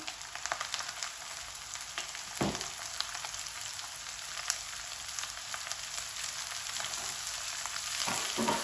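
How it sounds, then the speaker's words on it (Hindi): Bitter gourd and onion fry in a pan as a steady, crackling sizzle. It holds fairly even throughout, with occasional sharper pops. "अभी ये करेले के अंदर डाल देंगे। माशाल्लाह देखें जी यहाँ पे इनकी शक्ल चेंज हो गई है, थोड़े से क्रिस्पी भी बन गए हैं। अब इनके अंदर हम प्याज डाल देंगे।"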